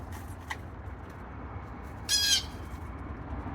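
A blue jay gives one short, harsh squawk, with a faint chip just before it, against quiet outdoor background.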